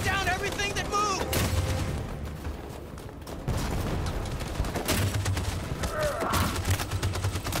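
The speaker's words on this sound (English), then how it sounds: "That machine gun has taken down everything that moves." Machine gun fire in Detroit: Become Human rattles in sustained bursts through a loud battle scene of explosions and gunfire, with voices and other game sounds mixed in.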